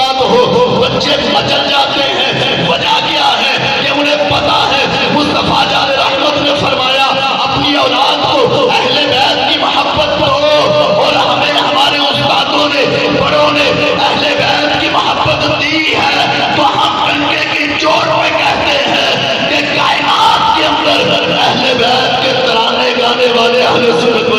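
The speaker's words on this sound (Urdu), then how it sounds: "ابھی آپ نعرے سن رہے ہیں" Children's voices chant slogans together at a religious gathering, a loud continuous stream of overlapping voices close by with rising and falling group calls and some chatter mixed in.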